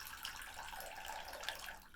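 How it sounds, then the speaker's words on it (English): Baptismal water poured in a church setting: a continuous, even splashing and trickling flow, close by and moderately loud, with no voices. "It is the water you were baptized in or will be baptized in."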